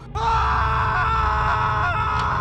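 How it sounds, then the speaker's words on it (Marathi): A loud, sustained high-pitched scream from a train carriage wavers for about two seconds over a low, steady rumble. "अचानक त्या रेल्वेच्या एका बोगीतून किंचाळण्याचा आवाज आला"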